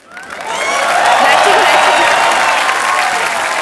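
A studio audience at a comedy talk show bursts into loud applause with some cheering, swelling quickly from a faint start and then holding a steady, dense roar of clapping.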